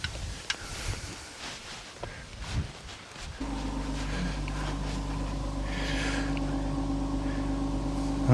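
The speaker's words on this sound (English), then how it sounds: "Let's start up the Jeep and make sure everything's working the way it should be." A Jeep engine turns over at about three seconds and settles into a steady, low idle close by, after a stretch of faint shuffling and handling noises.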